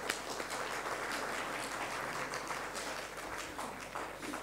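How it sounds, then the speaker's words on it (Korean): A Korean church congregation in Chile applauds in welcome during a Sunday morning service, a soft, steady patter of many hands heard from a distance for several seconds. "우리 한번 오랜만에 오셨다고 박수로 환영 한번 하시죠."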